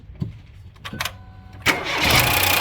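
A Ford EcoSport or Fiesta 1.0 EcoBoost engine with a low oil pressure problem cranks briefly after a few faint clicks, then catches and settles into a loud, steady idle up close.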